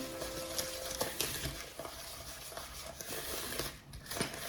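Egg yolk and sugar stirred with a spatula in a bowl while making a chocolate cake: soft, quiet scraping and sticky swishing strokes in an irregular rhythm, close and faint.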